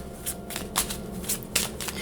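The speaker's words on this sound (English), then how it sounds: "it's just my habit to shuffle a tarot deck" A tarot card deck being shuffled by hand, with a run of crisp riffling bursts in an uneven rhythm, heard close and alone with no talking.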